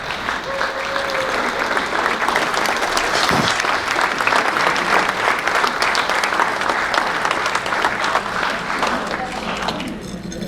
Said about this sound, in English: Please join me in giving a warm round of applause to Mr.